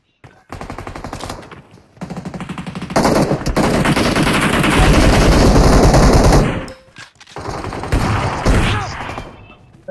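Automatic gunfire from the battle royale mobile game BGMI, with bursts of rapid shots that swell into a loud, sustained barrage mid-clip, then a brief gap before more firing resumes.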